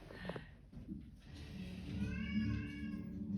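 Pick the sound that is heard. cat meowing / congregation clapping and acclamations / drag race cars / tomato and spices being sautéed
cat meowing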